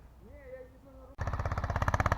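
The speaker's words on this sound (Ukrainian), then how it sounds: "Беремо болгарку, отхренячуємо його і їдемо в поле." An angle grinder cuts off a part of a plough out in a field, starting abruptly after a brief voice and running loud and close with a steady pulsing chatter to the end.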